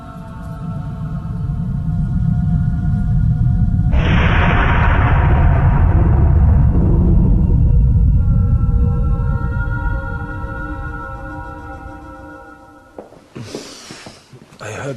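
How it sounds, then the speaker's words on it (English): A deep, heavy rumble swells and rolls on for several seconds, loud and low, then fades away, with a few sharper knocks near the end. "I heard the thunder."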